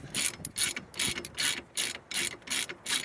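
A ratchet wrench turns a bolt free on the wheel hub of an R53 MINI Cooper S, giving close, loud bursts of rapid clicking in a regular back-and-forth rhythm with brief gaps between strokes.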